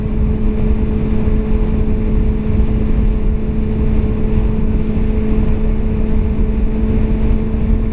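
2019 Kawasaki Ninja ZX-6R motorcycle engine droning loud and steady under acceleration on a street, with a constant engine hum and road and wind noise, no talking.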